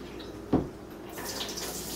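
Fresh water pours briefly into a soup pot for beef bone soup with kale and beans, a short splashing gush near the mic followed by a softer trickle, with no talking.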